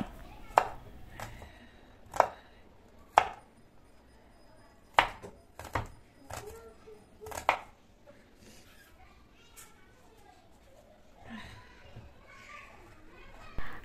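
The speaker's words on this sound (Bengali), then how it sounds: "একটি পেঁয়াজ মিহি কুচি করে কেটে নিচ্ছি।" A knife finely chops an onion on a board in a home kitchen, sounding as sharp separate chops spaced a second or so apart, with faint household voices and clatter around them.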